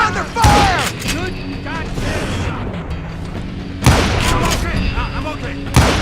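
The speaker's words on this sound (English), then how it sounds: "We're under fire!" Gunfire in Call of Juarez: Gunslinger bursts out in a few loud, sharp booming shots, one early and two later, over dense game sound where voices talk continuously.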